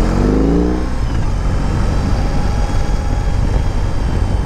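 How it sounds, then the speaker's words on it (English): A 2021 BMW R18 motorcycle decelerating, with a loud steady engine and road roar and a rising transmission whine near the start, heard close with no talking. "It's got like this tranny whine that's just amazing sounding."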